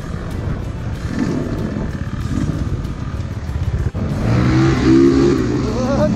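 Gas Gas 300 dirt bike engine at a dusty hillside riding spot, a steady loud rumble that surges into a higher, harder rev near the end, with a brief dip just before.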